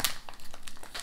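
A Fox's biscuit packet being torn open by hand, a close, sharp plastic crinkle and rip at the start followed by a quick run of rustling crackles.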